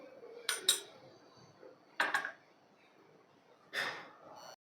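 A turmeric and ginger-garlic paste marinade for spicy fried fish is mixed in a bowl, with three short bursts of spoon scraping and clinking against the dish, close and fairly soft, with silence between.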